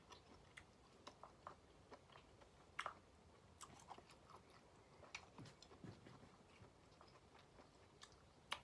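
Someone chews grilled squid at a campsite in Norway, with quiet, soft crunching bites and small clicks coming at an irregular pace, close and faint with no other sound.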